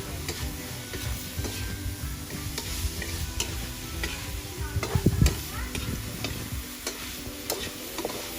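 Steady close sizzling of igado, an Ilocano dish, frying in a pan during backyard cooking, with the scrape and clatter of a utensil stirring it throughout, no voices.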